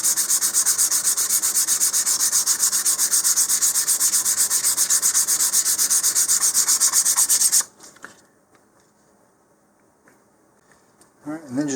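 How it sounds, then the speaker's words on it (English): Plastic model rocket parts for a Frangible ARCAS kit are sanded in quick, rhythmic back-and-forth strokes, loud and close for several seconds, then stop, leaving near silence before a short burst of sound at the end. "You don't need to sand really deeply. Just enough that you take the sheen off the plastic."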